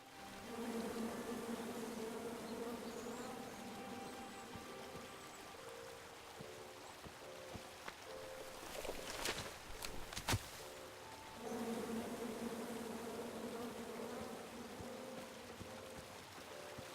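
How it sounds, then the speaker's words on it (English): Bees buzz steadily in the video game King's Quest, a close, continuous droning hum that briefly gives way to a few sharp clicks and splashes midway before the buzzing resumes, with no talk. "Come at me, bees!"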